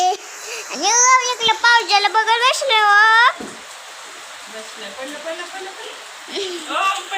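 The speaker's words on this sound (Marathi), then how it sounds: "इकडं पाऊस आहे" Rain falls as a steady, soft hiss in the background while someone talks loudly over it for the first few seconds; later the rain carries on almost alone, with a few more brief bits of a voice.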